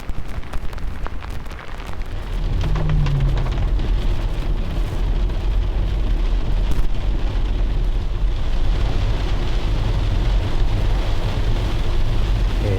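Rain falls steadily during a drive toward Guerneville on the coast. A dense, unbroken hiss and patter fills the whole stretch over a low road rumble, loud and close throughout.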